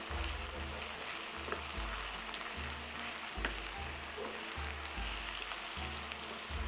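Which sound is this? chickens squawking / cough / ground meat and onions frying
ground meat and onions frying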